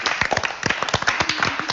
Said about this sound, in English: we just clapped